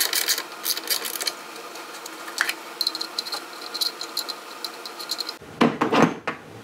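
A wrench ratchets rapidly while loosening a bolt on a Toro Greensmaster Flex21 reel mower. Repeated close metallic clicks run in bursts, then give way to louder clunks of handling parts.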